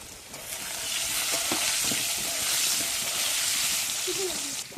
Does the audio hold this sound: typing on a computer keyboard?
no